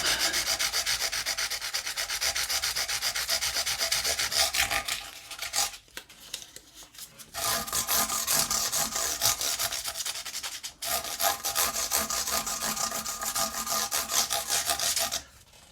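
Steady abrasive rubbing across the fret ends of a Gibson Les Paul Junior, loud and close, in two long sustained passes broken by a short pause around the middle.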